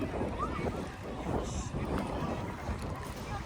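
Steady wind buffets the microphone outdoors at a fairground expo with rides, a low rushing roar that never lets up, with engine-like rumble beneath and faint voices mixed in.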